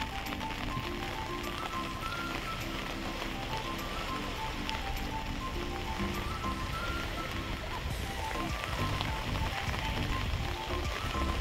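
Rain falling outdoors on the open deck of a ferry crossing from Auckland to Devonport, a steady dense patter mixed with the hum of the boat and wind, continuous and fairly loud with no clear talking.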